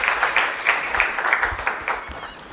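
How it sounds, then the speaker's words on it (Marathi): Audience applause at a Marathi poetry reading, a steady wash of clapping from a crowd that rolls on for a couple of seconds at moderate loudness, with no talk over it. "जोरदार टाळ्या झाल्या पाहिजेत"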